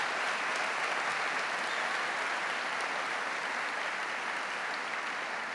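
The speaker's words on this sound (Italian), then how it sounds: "Un applauso." Sustained audience applause at a papal audience with the Neocatechumenal Way, a dense, even roar of many hands clapping for several seconds without letting up, with no voices over it.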